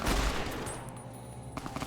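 Gunfire from a rifle in the video game Fallout: New Vegas: a loud burst at the start that decays into a ringing tail, followed by a few sharper, quieter shots near the end.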